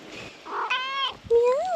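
A house cat on an off-grid homestead meows for attention at dinner time, several loud, close, rising and falling calls in quick succession, with a little background sound between them.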